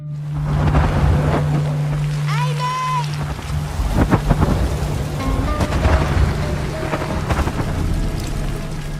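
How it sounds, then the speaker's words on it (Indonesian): A film scene of a storm: a steady roar of heavy wind, rain and crashing waves fills the whole stretch, with low rumbles of thunder and a few brief tonal cries rising above the din. "Di tengah badai yang membatasi jarak pandang, Lisa berjalan waspada"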